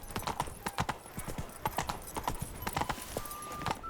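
Horse hooves beating in a fast, steady clip-clop rhythm in The Witcher 3 video game, close and prominent, with a faint voice briefly present and a soft whinny-like tone near the end.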